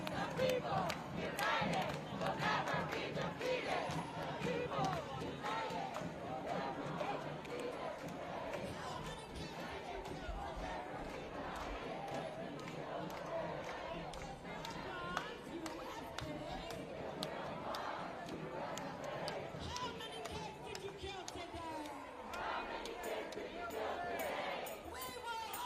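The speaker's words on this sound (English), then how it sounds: "Looks like they got a big crowd storming around the streets right now." A big crowd storms through city streets, a dense, continuous roar of shouting and chanting voices at middle distance with a talking voice over it.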